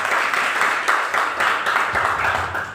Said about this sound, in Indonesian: Beri tepuk tangan dulu buat Tuhan Yesus.